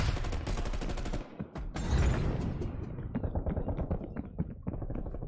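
Loud rapid gunfire in Call of Duty: Cold War, fast automatic shots rattling at close range with a heavy blast, then quieter scattered shots and clicks as the firing tapers off.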